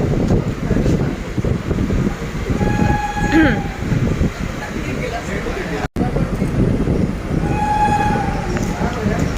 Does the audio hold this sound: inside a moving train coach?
yes